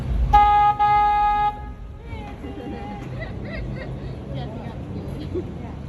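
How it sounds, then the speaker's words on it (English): A tour boat horn on the San Antonio River gives a loud tonal honk in two close blasts, followed by open-air crowd chatter and ambient noise. "I'm going to go ahead and honk the horn"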